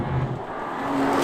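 BMW M4 Competition engine spinning up freely, a steady loud whirring rev with a rising tone, heard alone without talk.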